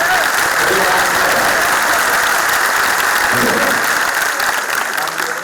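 A large audience at a poetry recital honoring martyrs at DTU breaks into loud, dense applause that stays strong throughout and eases slightly at the end, with some voices mixed in.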